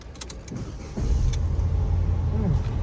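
A car engine starting during a driving lesson, quiet cabin hum and clicks, then a sudden rise into a steady low idle rumble that continues to the end.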